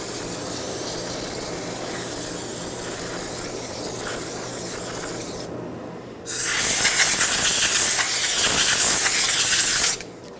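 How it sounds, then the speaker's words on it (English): Brake parts cleaner spraying onto a rusty 2009-2011 Ford F-150 rear backing plate, a loud steady aerosol hiss lasting about four seconds after a brief pause, standing out over a low background hum. "Let's clean it up with some brake parts cleaner."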